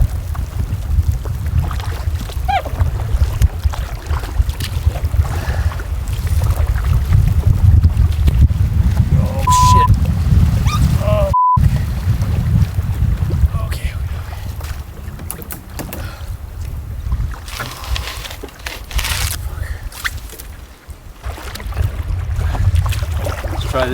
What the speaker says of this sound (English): Man, some strong gusts.